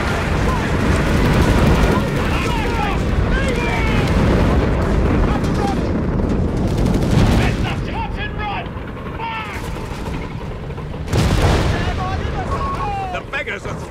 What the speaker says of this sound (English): Take in heavy enemy fire here!